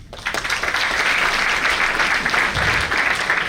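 Applause from a student conference audience for a young woman asked to stand; steady, loud, close clapping throughout the few seconds with no pause.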